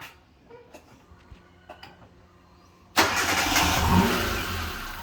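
A used car at a dealership showroom cranks and fires up at about three seconds, bursting loudly after quiet handling clicks and then settling into a steady, smooth running idle.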